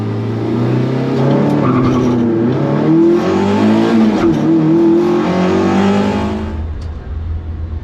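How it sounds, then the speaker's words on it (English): Toyota MR2 race cars at Silverstone circuit, a loud, continuous engine roar rising and falling in pitch as cars accelerate and pass close by, with brief tire squeal. "Off to watch MR2 racing."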